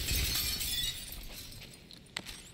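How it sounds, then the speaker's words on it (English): Glass shatters in The Callisto Protocol, a bright crash that falls into scattered tinkling debris, followed by a sharp second impact near the end. "I can break glass."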